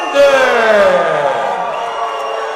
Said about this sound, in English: there's boos and there's cheers